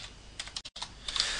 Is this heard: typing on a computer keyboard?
yes